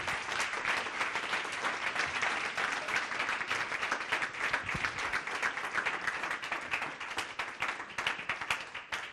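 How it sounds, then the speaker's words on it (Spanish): A large church congregation applauds loudly and steadily, dense clapping sustained throughout with no pauses. "Dagli un forte applauso al Signore."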